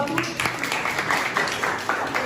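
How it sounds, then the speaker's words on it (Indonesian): Classroom applause for a student group after their presentation: a short burst of irregular hand claps, moderately close, with voices murmuring underneath. "Tepuk tangan untuk kelompok 1."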